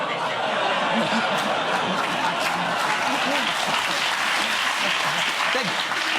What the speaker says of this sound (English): They're groaning and clapping at their own jokes.